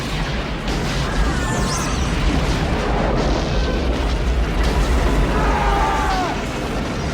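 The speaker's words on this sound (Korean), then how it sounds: "배는 이렇게 폭발하고 주인공은 아이를 구해 기구를 타고 탈출하며 침몰하는 배를 내려다봅니다." A ship blows up in the film Waterworld after a flare is thrown into an oil tank, giving a loud, sustained rumbling blast with dense low-end roar throughout, with faint whistling tones drifting over it.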